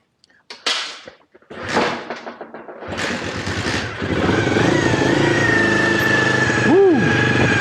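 A Honda Dream50 with a newly fitted carburetor is started with choke: a few cranking attempts and sputters, then the small engine catches and runs steadily up close, with brief blips of revving near the end.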